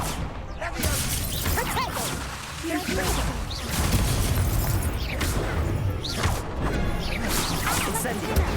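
Blasting and fire spells going off in combat in Hogwarts Legacy, with bursts, whooshes and crashing impacts over busy battle noise, and a player speaking over the action.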